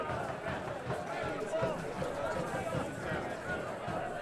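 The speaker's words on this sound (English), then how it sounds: "Crowd up and feeling it now." A stadium crowd murmurs and cheers during a Rochester Rhinos soccer match against FC Montreal at Rhino Stadium, a dense, steady roar of distant voices with no distinct peaks.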